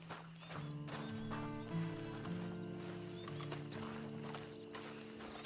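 Horse in Red Dead Redemption Online giving a steady clip-clop of hooves, with a whinny and tonal in-game music layered over it, moderately loud and continuous throughout.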